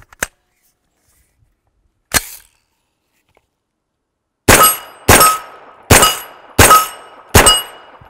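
Five loud gunshots from a 9mm CMMG carbine fitted with its factory muzzle brake, evenly spaced about a second apart, each with a sharp crack and short ringing tail, preceded by two isolated fainter clicks.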